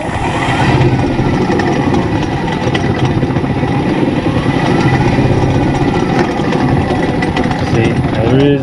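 An electric motor in an Audi 80 EV conversion spins up with its coupler fitted, giving a loud, steady mechanical whir and rattle that holds throughout, with rising tonal sweeps near the end.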